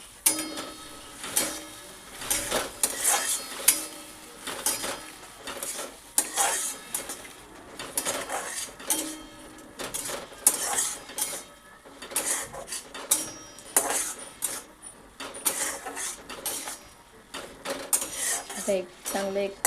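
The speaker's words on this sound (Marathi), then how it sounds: "आता यामध्ये भाजून घेतलेल्या शेवया ॲड करून घेऊया आपण." Roasted vermicelli being added to a pot of boiling water and stirred for upma: repeated clanking and scraping of a spoon against a metal pot in irregular bursts, with a faint sizzle underneath and no talking.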